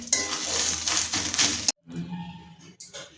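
Taro leaves with salt and sugar frying and being stirred in a pan, with metallic clinks and a steady sizzle that cuts off abruptly, followed by quieter scraping and clinks.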